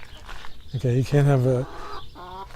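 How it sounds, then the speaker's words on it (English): Chickens cluck nearby in short bursts in Pioneertown, a desert Western film town, a few loud throaty calls, while a person speaks briefly over them. "I don't know if you can hear it, but I guess those are chickens"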